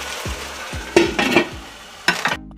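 Saltfish and seasoning sizzle steadily in a pan on the stove for ackee and saltfish, with a few sharp utensil scrapes and stirring bursts over the continuous frying hiss.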